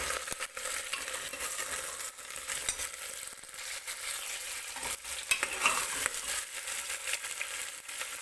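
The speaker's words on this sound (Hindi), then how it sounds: "अच्छे से सबको फ्राई कर लेंगे।" Potatoes, peas and cauliflower frying in a pot for vegetable pulao, a steady close sizzle with a spoon stirring and scraping throughout.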